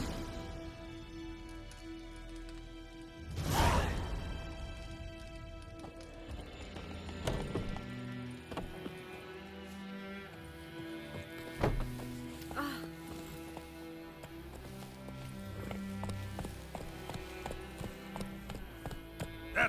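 Roach the horse gallops in The Witcher 3, with hoof clip-clops and a brief whinny rising over game music and ambience, the hoofbeats carrying on steadily at moderate volume.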